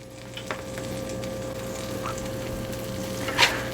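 A low-carb Reuben sandwich fries in a pan with a constant soft sizzle and occasional light pops, close and steady, with a faint background hum.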